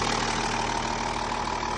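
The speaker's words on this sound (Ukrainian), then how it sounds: "Моторчик сухенький працює рівно." An Audi Q7 engine idles under the open hood with a steady, even hum and a low rhythmic rumble that runs unbroken throughout.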